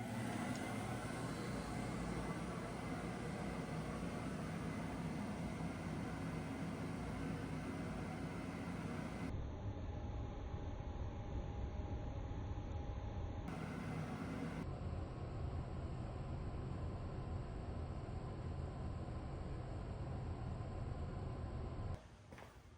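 A Wen 660 CFM dust collector in a home workshop, hooked by flex hose to a miter station cabinet, runs as a steady, even roaring whoosh of airflow throughout, with abrupt changes in the upper hiss partway through.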